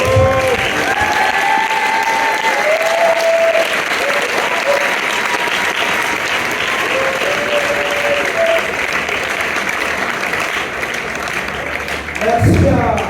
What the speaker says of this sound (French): donnons des acclamations à la hauteur de notre corps